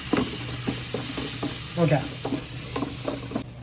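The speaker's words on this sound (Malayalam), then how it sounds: "കുറച്ച് നല്ല ജീരകം ഇതിട്ടിട്ട് നന്നായിട്ട് ഒന്നുകൂടി വാറ്റാം." Cumin seeds sautéing in a hot pan while chicken dish is prepared, with soft sizzling and repeated stirring scrapes in a steady rhythm, close by, under brief talk.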